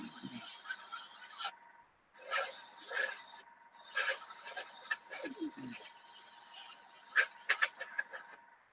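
UMP primer sprayed onto a model kit outside a spray booth makes close, sharp aerosol hisses in several bursts with short pauses, then quick short puffs at the end.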